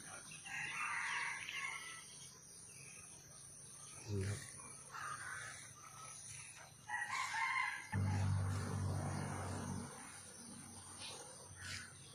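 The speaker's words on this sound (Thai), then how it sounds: "เสียงก็ไก่ขันก็ละ" Roosters crow several times at a distance, in separate drawn-out calls spread across the clip, while someone talks quietly in between.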